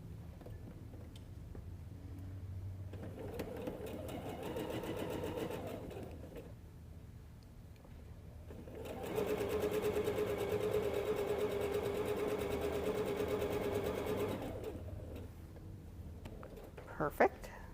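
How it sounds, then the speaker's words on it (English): A sewing machine stitches half-square triangles for a quilt block in two runs, a shorter burst and then a longer steady whirring stretch, moderately close, with quiet gaps and soft voices between. "I'm gonna sew these last half square triangles on"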